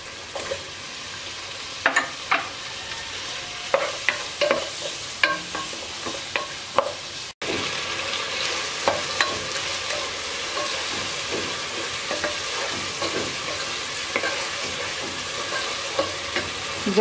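Meat lightly frying in a pot with spices and chopped tomato for kabuli chana biryani, a steady sizzle with repeated stirring and scraping clatter, briefly cut off midway before resuming.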